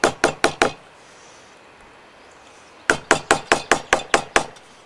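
A mallet taps a carving gouge into wood in two quick bursts, four sharp close knocks, a pause of about two seconds, then eight more in a steady rhythm.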